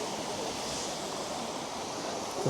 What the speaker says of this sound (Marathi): खळखळणारं पाणी स्वच्छ